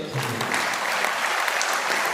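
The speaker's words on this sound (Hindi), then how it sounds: "एक बार टोटल तालियां बजाइए सर।" Audience applause at a live talk, dense steady clapping from a crowd throughout, fairly close and even.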